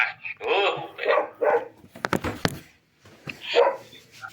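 A dog barks and yips repeatedly in short bursts near a classroom lesson on transformers and capacitors, mixed with nearby voices talking, the barks close and moderately loud.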